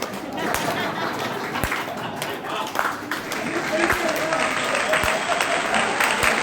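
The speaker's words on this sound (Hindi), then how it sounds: "जब तक आप तालियां नहीं बजाएंगे मैं यही नहीं बोलती" An audience at a Hindi comedy poetry gathering bursts into sustained applause, a thick wash of many hands clapping that swells slightly toward the end, with a voice faintly audible beneath it.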